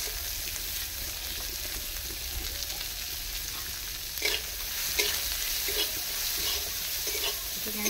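Chopped beans and carrots fry in a pan with ginger and garlic, giving a continuous close sizzle broken by a few soft scrapes as the vegetables are stirred.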